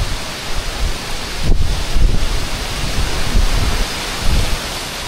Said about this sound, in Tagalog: Umiihip na naman. Lakas ng hangin.